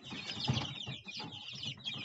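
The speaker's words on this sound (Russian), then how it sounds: "Он так попискивает." A very small young chick peeps softly and repeatedly in a heated brooder, short high chirps coming in quick irregular bursts close by.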